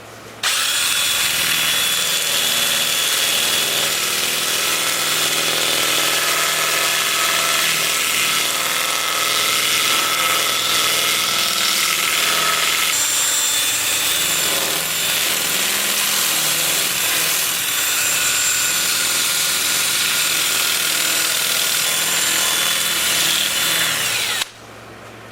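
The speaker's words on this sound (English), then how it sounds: "I'm gonna have the lathe spinning in reverse at about 360" A wood lathe runs in reverse at about 360 rpm while a root ball bowl is sanded, giving a steady, loud, continuous whirring drone with abrasive hiss that holds unbroken for around twenty-four seconds and stops abruptly at the end.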